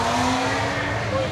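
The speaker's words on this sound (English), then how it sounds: "Ford Mustang motor." A Ford Mustang V8 motor swapped into a race car, a 347, runs steadily at a race meeting, a loud continuous engine drone with steady tonal whine filling the whole moment.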